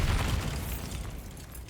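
Blast from the Bombarda spell in Hogwarts Legacy, a short, heavy, booming explosion with a deep low rumble that fades over a second or so.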